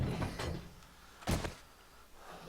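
A door closes in the survival game 7 Days to Die with a short sharp thud and rattle, set among soft, scattered background clatter from the game.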